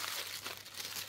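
Soft crinkling of the packaging from an unpacked parcel, a short run of quiet rustles and crackles close by, with no talk.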